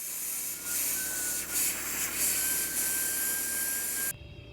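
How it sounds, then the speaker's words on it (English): A brush scrubs built-up gunk off the blades of a Lasko tower fan, a steady close rubbing and scraping that rises and falls over a continuous whirring hum, then stops abruptly near the end. "get in there with a brush and try to brush some of that"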